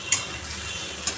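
Sweet potato and okra sizzle softly in a frying pan, a brief low hiss with two sharp clinks of a utensil against the pan.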